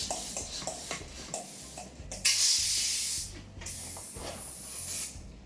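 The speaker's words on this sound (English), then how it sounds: "I will inflate the balloon and then take the air out of it." Air rushes out of a 260Q twisting balloon in a steady, close hiss, with a few soft squeaks and handling taps before it, then a second long hiss.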